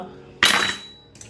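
Metal kitchen tongs in a small Indian home kitchen give one sharp clattering clank with a brief ringing tail, then a fainter second touch a moment later.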